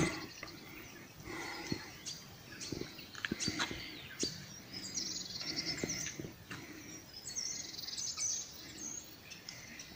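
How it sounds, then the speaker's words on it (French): Birds chirp and tweet softly in short scattered calls in a park at Colombey-les-Deux-Églises, France, a quiet outdoor ambience with faint insects in the background. "On entend un peu les oiseaux."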